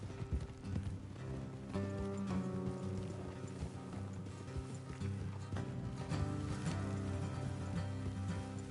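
Horse hooves clip-clop steadily on hard ground at a walking pace in Red Dead Redemption 2, with a dense game soundscape layered underneath and no talking.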